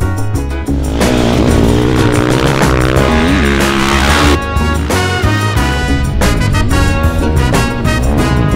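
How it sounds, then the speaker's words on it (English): A race motorcycle being shaken down and scrubbing in tires before the Baja 500 desert race: a loud, close engine revving hard, its pitch climbing and falling, with a brief drop partway through before it roars again. "We're testing the race bike, made a little shakedown, scrubbing some tires."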